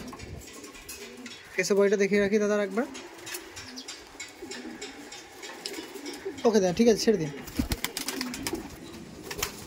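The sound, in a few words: pigeons cooing at a pigeon market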